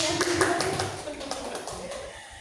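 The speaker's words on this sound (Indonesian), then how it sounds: "Tepuk tangan dulu" Audience clapping at an indoor community talk, moderately faint and scattered, with a voice speaking over the clapping before it dies away.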